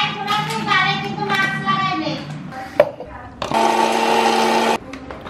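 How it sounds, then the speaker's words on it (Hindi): A mixer grinder whirs loudly for about a second, grinding biscuits with a little cream for a birthday cake, after a stretch of talk and handling sounds at home. "तो उसके बाद हम ग्राइंड कर रहे हैं"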